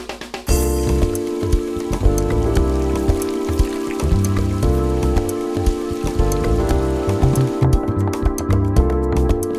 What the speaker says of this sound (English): And then we'll rinse.